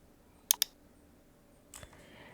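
Computer mouse clicks at a desk: a quick double click, a short pause, then a softer single click against a quiet background.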